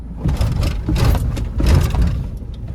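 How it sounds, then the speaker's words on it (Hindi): A Mahindra XUV500 diesel SUV with over 233,000 km lurches as its clutch is released abruptly, giving a loud low engine rumble with several surging pulses and no talking. "मैं अब की बार धक्के से रिलीज करूंगा, और इसका फर्क देखना, गाड़ी कितना वो झटका मारेगी।"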